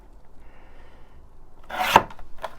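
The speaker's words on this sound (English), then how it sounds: "I'll trim both ends of that because it is very damaged, both ends." Paper for a junk journal is trimmed with a short, close scraping cut that rises to a sharp burst near the end, followed by a smaller rasp, in an otherwise quiet room.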